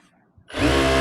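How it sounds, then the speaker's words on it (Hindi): A sewing machine stitching a seam in old saree fabric starts up after a brief quiet moment, then runs as a steady, loud mechanical whir close by. "बीच की सिलाई लगाएंगे"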